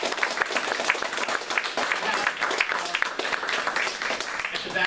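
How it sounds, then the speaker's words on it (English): An audience at a Brooklyn Tea Party meeting applauds with steady, moderately loud clapping that fills the room for about five seconds, with scattered voices murmuring beneath it. "Everyone, please give her a round of applause."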